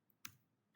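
Two isolated, crisp keystrokes on a computer keyboard, close and quiet, separated by about half a second of near silence.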